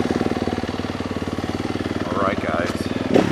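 A Yamaha YZ250F four-stroke dirt bike engine idles steadily at close range, a low pulsing rumble running throughout, with a brief blip of the throttle near the end and someone speaking briefly over it.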